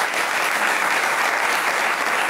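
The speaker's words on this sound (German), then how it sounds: "Applaus" Studio audience applause at a German political talk show, a dense, loud, even wash of clapping sustained throughout with no voices on top.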